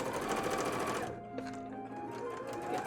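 Steady whirring of a sewing machine stitching a cosplay bodice insert, close up, stopping after about a second, followed by quieter handling sounds and a faint low hum.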